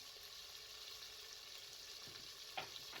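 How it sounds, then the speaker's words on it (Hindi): Beef pieces frying in a pot for Pakistani tinda gosht curry, giving a steady, quiet sizzle throughout with a faint stirring clink near the end. "तकरीबन 5 मिनट तक आपने गोश्त की अच्छे तरीके से भुनाई कर लेनी है।"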